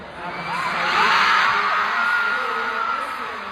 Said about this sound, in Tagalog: Grabe na ang sigaw ng mga tao.